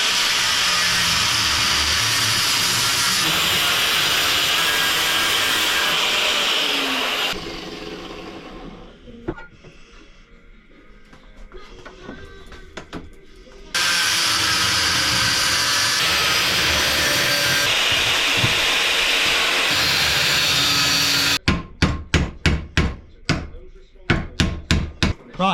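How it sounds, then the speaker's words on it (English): Cutting a Toyota MR2 exhaust pipe with a power cutter: a loud, steady grinding roar runs for several seconds, stops for a quiet pause, resumes, then gives way to a rapid series of sharp knocks. "Let's get some cutting done"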